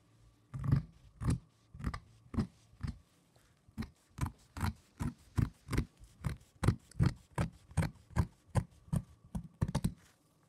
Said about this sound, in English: Cut around all the sleeve.